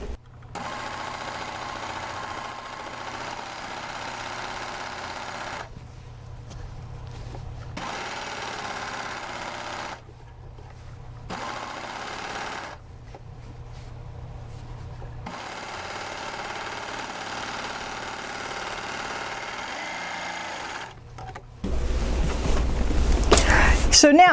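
A sewing machine stitches the lining seams of a little girl's dress in several steady runs of whirring motor and needle, broken by short pauses, with a louder burst of noise at the end.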